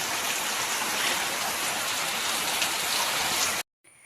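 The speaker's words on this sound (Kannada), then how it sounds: "ಮಳೆ ಬರ್ತಾ ಇದೆ." Sudden rain pouring down steadily after sunshine, a dense, even hiss of drops that stays loud and close for most of the stretch, then cuts off abruptly near the end.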